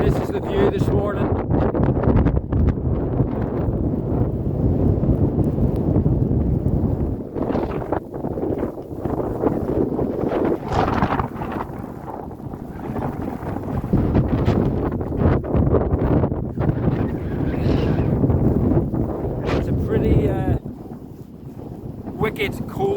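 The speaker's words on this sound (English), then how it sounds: "Wicked cold wind." Cold wind blows hard across Wild Boar Fell, a steady loud buffeting roar on the microphone with gusting surges, easing slightly toward the end.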